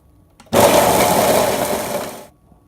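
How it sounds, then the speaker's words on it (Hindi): An electric blender grinds cookies and biscuits into crumbs, a loud, dense whirring roar that starts abruptly, holds steady for about two seconds and then cuts off. "मैंने किस तरह ब्लेंडर में डालकर इसको चूरा बनाया था कुकीज़ का, बिस्किट्स का"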